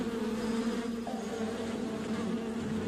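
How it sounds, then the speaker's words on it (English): Stinging bees from a colony buzz continuously in a dense, steady drone, close and fairly loud throughout, with no voices present. "It involved hiding a colony of stinging bees in soldier-like dummies."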